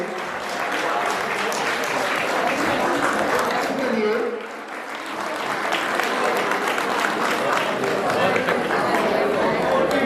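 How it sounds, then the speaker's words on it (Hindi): At a Basant Panchami fair in Uttarakhand, a crowd applauds a girls' volleyball team with steady loud clapping that dips briefly midway and then swells again, with background chatter and voices mixed in. "जोरदार तालियों से स्वागत करेंगे"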